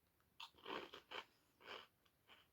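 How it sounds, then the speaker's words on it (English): Small square salty Japanese puff snacks crunch between the teeth in several close, quiet bites and chews spaced unevenly, with no talking. "They're really crunchy."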